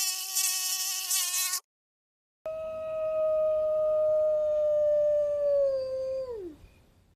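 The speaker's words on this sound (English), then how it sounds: "It's a mosquito." A mosquito whines with a thin, high, steady buzz for about a second and a half, then cuts off into silence before a long, drawn-out animal howl begins.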